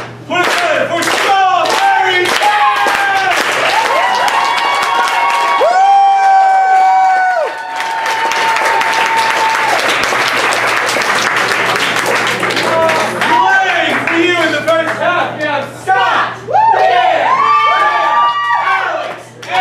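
A student show audience claps and cheers loudly throughout, with whoops, shouts and vocal hollers rising over steady clapping, a dense and continuous near crowd reaction with no pause.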